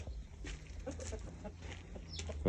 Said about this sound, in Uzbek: Mana tovuqlarimiz.